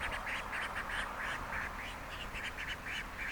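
A duck quacks repeatedly near a creek, a rapid chain of nasal calls close by, heard over a steady hum of background noise.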